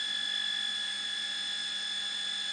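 An unidentified pump gives off a steady mechanical hum: a constant, loud whine of several sustained tones that runs unbroken from start to finish with no voices.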